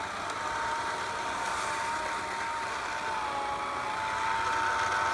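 A Bissell 2880 cordless sweeper runs on a concrete floor with a steady, faint motor whine and a soft brushing hiss, unbroken throughout.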